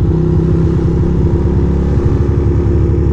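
A Ducati motorcycle engine runs steadily while the bike cruises, with a loud, close, throbbing mid-range rumble and constant pulsing exhaust that holds an even pace with no talking.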